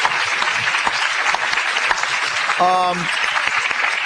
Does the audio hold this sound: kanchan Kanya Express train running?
no